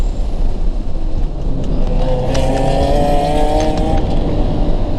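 A Scion FR-S on a race track, engine roaring loudly and continuously close by as it brakes late into a corner, with rising and falling engine tones and steady road and wind noise.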